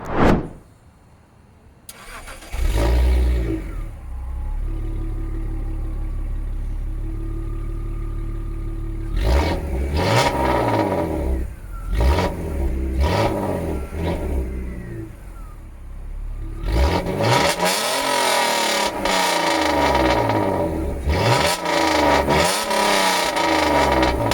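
A 2003 BMW 325Ti engine cranks, catches and starts, then idles and revs repeatedly, the engine roaring up and down close by.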